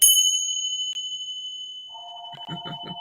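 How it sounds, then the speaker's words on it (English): A sustained bright metallic ring sustains and slowly fades, followed by a quick series of shorter chiming tones near the end. "The Tibetan bells."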